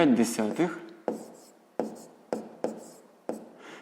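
Pen scratching on paper while a sixth-grade maths exercise is written out, a short spoken phrase at the start followed by several distinct strokes and taps spaced about half a second apart, close and clear.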